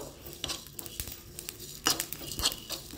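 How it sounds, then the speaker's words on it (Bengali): Paneer sizzles gently in a pan as kasuri methi is stirred through it, with soft scraping taps and clinks of a utensil against the pan at close range and no talk. "এর মধ্যে কাসুরি মেথি পাতাটা দিয়ে দিলাম, জাস্ট এটা দিয়ে একটু নাড়িয়ে ছাড়িয়ে নেবো"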